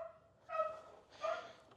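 Two separate barks from a dog, spaced about half a second apart, moderately distant and clear against a quiet background.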